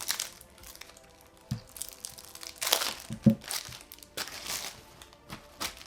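Plastic wrapping crinkles and tears as a wrapped deck of game cards is opened, quiet close crackling and crumpling in irregular bursts with a few sharper snaps.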